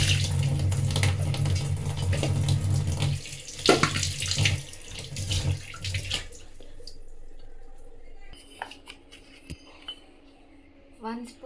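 Running tap water splashes steadily over fish being washed in a sink, loud for about six seconds, then cuts off, leaving faint clinks and drips of handling.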